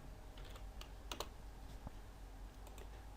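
Computer keyboard being typed on to enter a block command in a drawing program, a few quick faint key clicks scattered over a few seconds against a low background hum.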